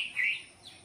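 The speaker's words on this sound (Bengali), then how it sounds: "দেখেছো পাখির ডাক শুনতে পেরেছো?" A single bird gives a short bright chirp outdoors, close and clear against a quiet background, with a fainter second note just after.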